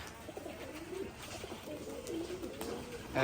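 Soft, low cooing of pigeons, several gentle rolling coos in a quiet setting.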